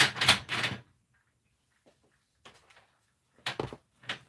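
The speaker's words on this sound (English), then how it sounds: "now we can cut those strips down" Fabric strips being cut for sewing with a rotary cutter, a few short sharp rasping strokes separated by quiet pauses, close and crisp.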